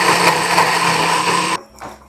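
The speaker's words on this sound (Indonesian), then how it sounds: "Blender." A kitchen blender grinds spice paste, a loud steady motor whir with a high churning buzz that cuts off abruptly near the end, followed by a brief faint clatter.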